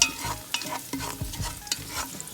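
Sauce base for meatballs and spaghetti sizzles and simmers in a pan while being stirred, with soft scraping strokes and gentle frying crackle at close range.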